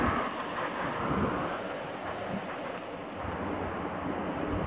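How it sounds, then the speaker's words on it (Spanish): Strong cold wind blows outdoors, a continuous broad roar buffeting the microphone at a steady, moderate level with no talk. "sopla un viento fuerte, frío"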